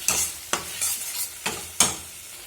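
Spice paste with onion and garlic is stir-fried in a pan for potato dum, with a soft continuous sizzle broken by about four sharp scraping stirs of a spoon, close and without talk.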